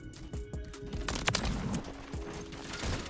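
Rapid gunfire in Modern Warfare 3, a steady spatter of shots and game effects from several directions at moderate level, with no voices over it.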